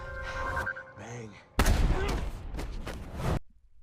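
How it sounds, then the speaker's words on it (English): Shotgun fire from the Daredevil TV show comes through as a sharp blast followed by a dense, sustained burst of booming gunfire that stops abruptly, with a brief muffled voice just before. "He's just shooting the shotgun like right next to his fucking ears."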